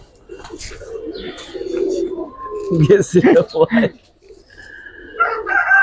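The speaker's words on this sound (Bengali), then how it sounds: "এগুলো আমার ঘরের কবুতরই, একদম পিওর মাকড়া" Giribaz (Makra) pigeons coo in low, throaty rolling calls close by, while a person talks over them.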